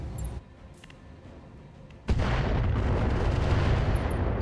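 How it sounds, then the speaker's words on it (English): A Longbow mech in the RogueTech BattleTech game opens fire on a Rakshasa, a sudden loud barrage of booming launches swelling into a dense, sustained roar of weapons fire after a quieter lead-in. "The longbow will hop out over here and fire direct fire on that Rakshasa as well."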